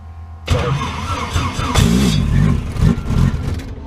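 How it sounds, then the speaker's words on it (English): A light aircraft's propeller engine cranks and catches, a loud rough burst that settles into an uneven, throbbing run close by. "when the engine catches and engages and stays on"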